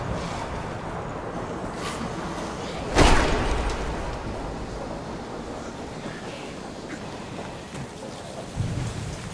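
Steady heavy rain pours through a storm in the video game Deadlight, with one sharp thunderclap cracking loudly a few seconds in and rumbling off, plus a fainter rumble near the end.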